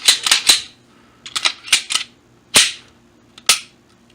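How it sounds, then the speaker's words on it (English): Sharp metallic clicks and snaps from a Glock 19 pistol as its slide is fitted back onto the frame, arriving in quick clusters and single close clacks with short silences between, with no talking. "We align the frame with the slide. And if you do it right, everything should lock back into place."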